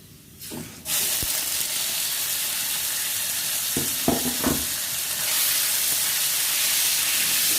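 Marinated pork frying with garlic in a pan gives a loud, steady sizzle that jumps up as the meat goes in and keeps hissing, broken by a few clacks of a spatula against the pan.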